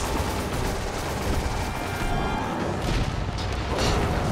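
Dense gunfire in Resident Evil 5 fills the scene, loud overlapping shots and booms blending into a continuous barrage with no clear pauses.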